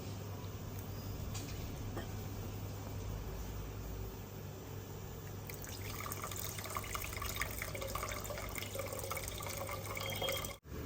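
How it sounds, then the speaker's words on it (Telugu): Water runs and splashes into a pot of tamarind dal soup, growing brighter and fuller partway through, with a steady background hum. "ఇందులోకి ఇంకొన్ని నీళ్లు పోసుకోవాలి"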